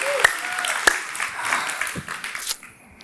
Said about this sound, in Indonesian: Yang kasih tepuk tangan untuk mereka